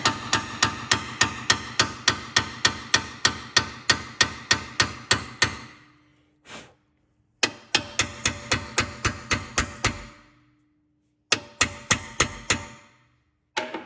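Hammer tapping a cold chisel to pop a bolt out on a Tesla Model X, sharp ringing metallic strikes in fast steady bursts of about a dozen hits, pausing twice between runs, close and clear with no talk.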